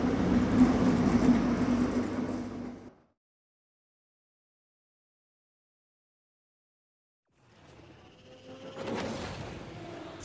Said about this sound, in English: Ah, noisy train.